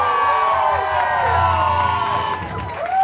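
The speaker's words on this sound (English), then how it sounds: "Give a round of applause." A live-music crowd at The Escondite cheers and applauds at a band's show, loud and sustained with whoops over dense clapping, fading slightly at the end.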